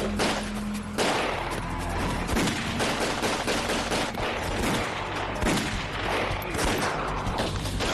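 Rapid, dense bursts of gunfire in a Hindi-dubbed Pablo Escobar crime drama, shots overlapping in a loud, continuous fusillade with sharp cracks throughout.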